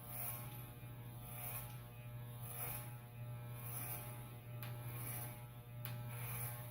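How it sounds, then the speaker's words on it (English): Electric hair clippers cutting hair give a steady, close electric buzz throughout, with slight swells and dips as the blades move through the hair. "Just listen to the machine. Machine's still cutting."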